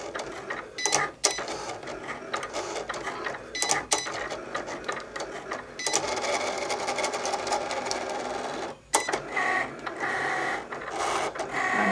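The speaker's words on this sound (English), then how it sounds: "Now it's doing the outside of the box." A Cricut Explore cutting machine cuts the outline of a paper box, giving a steady close mechanical whirring and buzzing with repeated carriage movements and brief clicks between passes.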